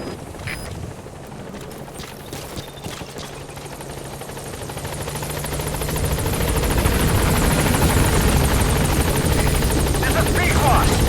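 The Pequod helicopter approaches a landing zone in the video game Metal Gear Solid 5, its rotor drone swelling from moderate to loud and holding steady as a voice talks over it.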